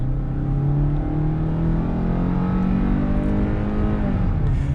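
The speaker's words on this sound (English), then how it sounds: "we are setting off now in this new Hyundai Tucson" A 2023 Hyundai Tucson XRT AWD with a naturally aspirated engine pulls away, its steady engine drone gradually rising in pitch under continuous road noise from inside the cabin.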